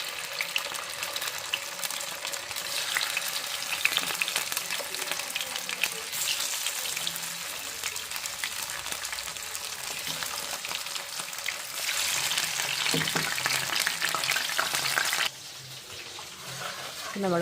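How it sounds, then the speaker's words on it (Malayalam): Chicken coated in a flour and egg-white batter deep-fries in hot oil, giving a continuous loud crackling hiss with busy bubbling that steps down in level near the end. "അപ്പോൾ നമുക്ക് ചിക്കൻ ഫ്രൈ ചെയ്തെടുക്കാം."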